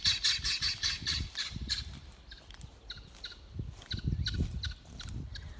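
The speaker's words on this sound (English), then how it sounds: "let's go see what the guineas are complaining about" Guinea fowl squawk in repeated harsh, rhythmic bursts, loud and close, with several birds calling in overlapping runs during an outdoor walk along a flat, rural Kentucky county road.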